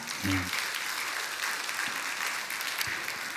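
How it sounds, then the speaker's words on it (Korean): Steady applause from a church congregation during a Sunday service, continuous and moderately distant, filling the room evenly throughout. "이제 인사를 들으실 때 여러분이 격려하는 그런 마음으로 박수를 해주시기 바랍니다"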